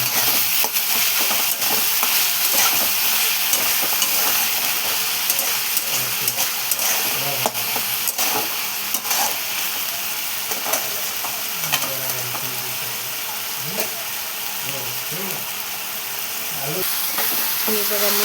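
Chopped onions frying and browning in a pan for egg bhurji, with steady sizzling throughout and repeated scraping and clinking of a spatula as they are stirred, close and fairly loud.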